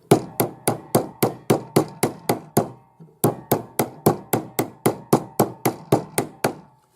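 Steady, sharp hammer blows on metal, about three per second, hammering a notch into a hollow bangle, with a brief pause midway before the rhythmic striking resumes, close and ringing.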